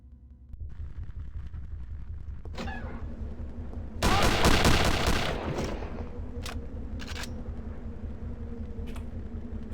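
Gunfire in the shooter game Return to Castle Wolfenstein: a loud, dense burst of shots lasts about a second, set against a steady low game rumble, with a few sharp isolated cracks trailing after it.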